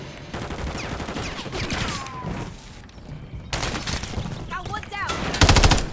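Rapid automatic gunfire bursts from a first-person shooter video game, loud and dense, with reloading clicks and a final heavy volley near the end.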